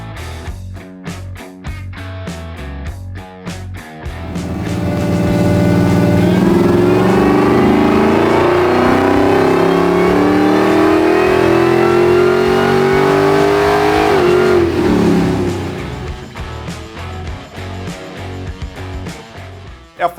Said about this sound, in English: We've got an all-new TVS2650 Supercharger for the Jeep Grand Cherokee